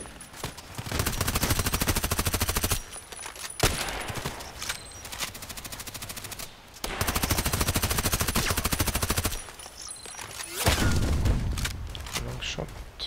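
Bursts of automatic gunfire in the shooter game Contract Wars, firing from long range in dense rapid volleys separated by brief pauses, loud and continuous through most of the stretch.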